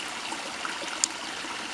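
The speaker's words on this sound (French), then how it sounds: "c'est un petit ruisseau. Et comme tous les petits ruisseaux dignes de ce nom, eh bien, il y a comme un son mélodieux" A small stream babbles outdoors in a steady, soft wash of flowing water, with a faint brief splash partway through and no voices.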